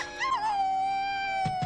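A dog in the animated film Lady and the Tramp lets out a long, sustained mournful howl that starts with a short rising whimper, close and clear, with a faint thump near the end.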